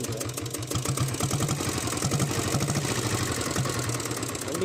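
A Royal Enfield diesel Bullet motorcycle engine runs close by with a deep, steady thumping beat and mechanical clatter, holding a fairly even pace without clear sharp revs, with no voices.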